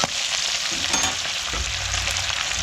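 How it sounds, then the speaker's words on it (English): Whiting fish frying in a pan, a loud, steady close-up sizzle that crackles continuously with no voices over it. "Work out the fish is getting cooked."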